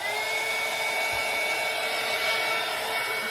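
A hair dryer blows steadily at close range, drying the coating on a craft ornament. Its even whooshing airflow runs without a break.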